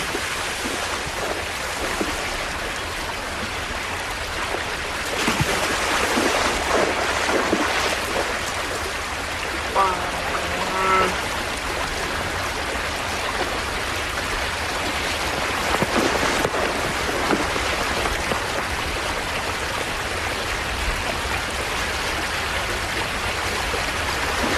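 Cool river water rushes steadily where grizzly bears fish for salmon on a warm day, a broad, continuous flowing roar that stays close and even with no voices.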